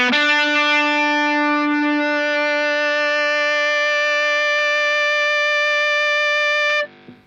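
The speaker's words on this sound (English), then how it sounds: "you can only add the feedback effect on top of it" A heavily distorted electric guitar through a Line6 Helix feedback effect holds a single note that sustains steadily for several seconds, loud and unwavering, before cutting off abruptly.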